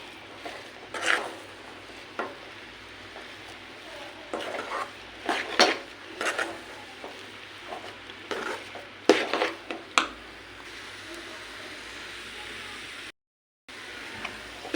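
Coconut jaggery rava laddu mixture being stirred in a pan, with intermittent scraping and clinking of a spoon against metal and a faint sizzle underneath, close by and no speech.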